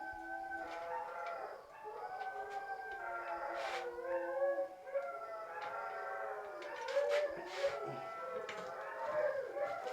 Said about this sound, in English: That's my dogs in the background.